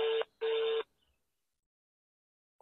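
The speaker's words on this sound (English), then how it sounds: "It's ringing, but it's not picking." Ringback tone of a phone call that goes unanswered: two short steady electronic ring bursts, then silence, with another burst beginning at the end.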